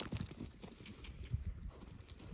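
Hooves of a young, green horse clop on the ground during groundwork in a few soft, irregular steps, faint and nearby with no talking.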